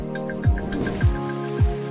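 Raindrops falling as three distinct, evenly spaced drips or plops about half a second apart, close and fairly loud over a steady tonal hum, with no voices.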